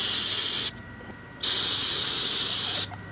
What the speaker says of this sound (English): break out some of my parts cleaner here from Detroit Axle and spray it on there